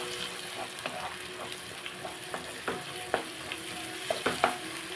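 Coriander and cumin powder frying in a pan for a gongura and salted-fish dish, with steady soft sizzling and occasional stirring scrapes and clicks, close and alone without talk.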